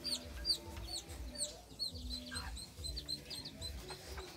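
Laying hens and a rooster cluck and call repeatedly, close by, over soft rhythmic low thumps in a farmyard.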